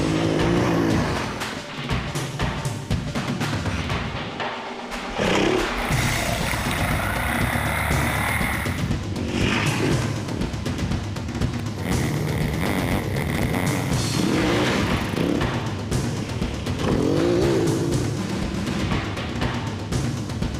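A KTM 350 Freeride motorcycle rides off-road over rocky terrain, its engine droning steadily and loudly throughout with revving surges and a brief dip partway through.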